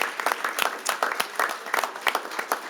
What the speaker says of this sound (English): let's give another big round of applause for all of the recipients of tonight's employee awards